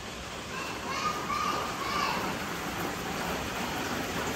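Rain falls steadily outside a garden house, making an even, close hiss that lasts throughout. Someone talks over it.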